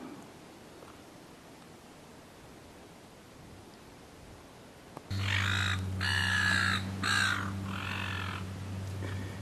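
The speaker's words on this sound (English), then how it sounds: "You've got your gulls and you got the fish crows up there." Fish crows on the coast caw in several harsh, nasal calls from about halfway through, over a steady background hiss and low hum, fairly close.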